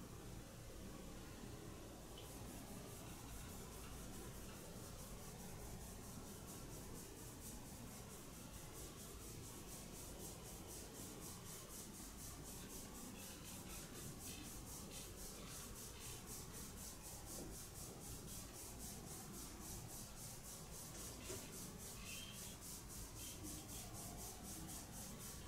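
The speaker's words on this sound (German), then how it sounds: "Die siebte ist das Handgelenke aneinander reiben innen." Steady rubbing of the inner wrists pressed together during a hand reflexology tapping routine for seniors, a soft continuous friction hiss running unbroken and close throughout.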